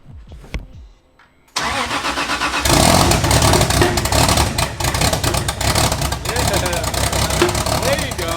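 A Toyota 1JZ engine swapped into a BMW E36 cranks and fires on its first start, then runs loudly at a rough, rumbling idle with small revs, preceded by brief sounds and a voice.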